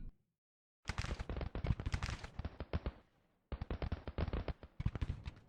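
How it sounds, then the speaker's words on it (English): Artillery opens fire in the Civil War strategy game Grand Tactician: The Civil War, heard as dense crackling bursts of rapid reports in two long volleys split by a brief silence, with no talk. "Our artillery has opened fire."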